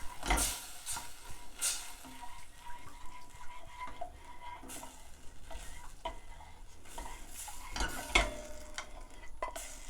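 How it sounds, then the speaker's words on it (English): Chicken breast frying in a pan, stirred with a utensil: a soft continuous sizzle under repeated scraping and clinking strokes against the pan, fairly quiet and close. "Give that a stir."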